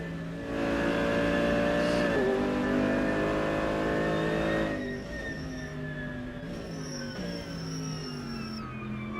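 GT3 race cars at the Nürburgring 24-hour race roar past loudly, engines revving and climbing through gears, with one car passing close early and further engine drones following at a distance.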